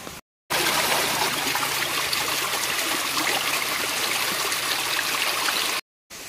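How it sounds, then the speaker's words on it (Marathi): Clear, gently flowing stream of crystal-clear water in the Konkan countryside near Ratnagiri, a steady broadband rush and trickle that fills the clip without break, close and even, with no voices. "वरनं कुठनं तरी पाणी आहे ते सगळं वाहत येते"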